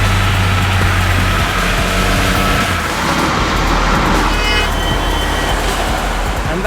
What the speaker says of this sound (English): The triple-cylinder 1215cc engine certainly makes for entertaining performance